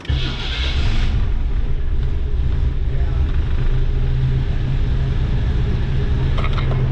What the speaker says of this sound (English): I do believe the gas in this vehicle to be older than my children, so I'm amazed that it's running.